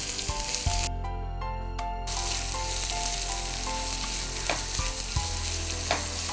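Onion sautés in oil with ginger, garlic and green chili for semiya upma, a continuous close sizzle with occasional stirring knocks, and background music running underneath.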